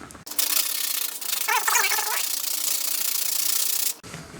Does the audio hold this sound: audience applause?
no